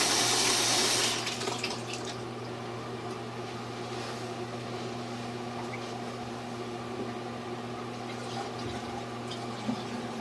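Water poured from a bucket into a shower drain, a steady close rush and gurgle of liquid running continuously, louder for the first second and then settling into an even flow.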